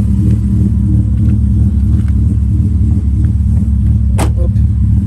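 A car drives slowly while parallel parking into position for a trailer, a steady loud low engine rumble up close, with a brief sharp noise near the end.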